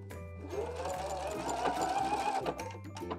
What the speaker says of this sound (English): And then you can continue sewing and backstitch at the top.